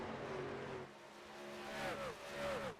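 Race trucks on the Homestead Miami Speedway oval roar past at full throttle, engine notes rising and falling as the pack sweeps through, loud and continuous with no talk over them.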